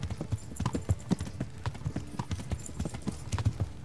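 Horse hooves clip-clop in Kingdom Come Deliverance, a quick, steady run of close, sharp thuds repeating evenly throughout with no break.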